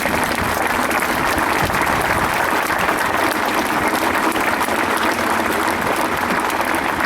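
Sustained applause from a large audience at a formal speech event, a dense steady roar of clapping hands filling the room throughout without pause.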